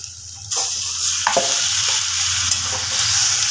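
Marinated chicken hitting a hot pan bursts into loud sizzling, with a spoon stirring and scraping through the pieces and a continuous close frying hiss.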